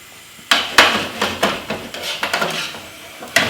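Avocado pieces stirred into a warm mango salsa in a pan, giving a few clinking, scraping knocks of a utensil against the pan, close and spaced irregularly, with no voices.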